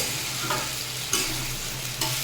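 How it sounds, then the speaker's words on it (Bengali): Cumin seeds tempering in hot oil give a steady, close sizzle with a soft crackle and a few brief stirring scrapes. "এই যেখানে শুধু জিরে ফোড়ন দিলাম"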